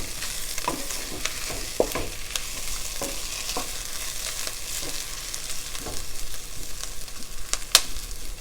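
Onion pieces, cut slightly large for soybean chilli, frying in a pan with a steady broadband sizzle and a few soft stirring clicks scattered throughout, close and moderately loud, no voices.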